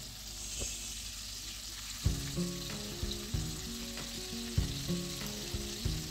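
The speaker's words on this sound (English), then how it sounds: "Throw in the fish. Fry for 5 to 6 minutes on each side, or until golden brown and crispy." Red snapper seasoned with scotch bonnet pepper fries in hot oil, a steady close sizzle punctuated by repeated low thumps and clinks from a utensil at a loose rhythm.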